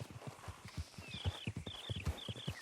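Horse hooves in Red Dead Redemption 2 clip-clop in a quick, steady rhythm at a walk, fairly faint, with thin high chirps drifting above.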